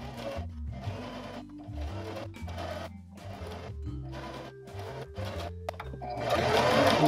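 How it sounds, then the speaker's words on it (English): A sewing machine stitches a dart seam on a shirt in a series of short, evenly spaced runs with brief pauses between them, ending in a longer, louder burst. "back stitch, lock it in place, and just follow your seam all the way down"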